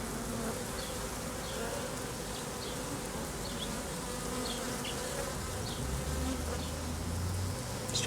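A dense honey bee swarm hums steadily at the entrance of a hive, a continuous close buzzing of many bees with no voices over it.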